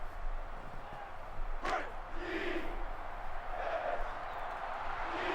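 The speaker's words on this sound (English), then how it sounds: "Crowd getting into it." A stadium crowd roars and shouts in NCAA Football 06 during a UC Davis at Southern Utah game, a steady mass of voices with rising swells of cheering and a sharp whistle-like burst early on.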